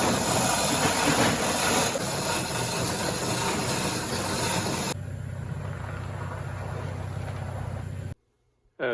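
Engine of a 1994 Polaris Indy snowmobile running outdoors in the cold, a steady loud roar that drops to a lower idle partway through before briefly cutting out, with no talk.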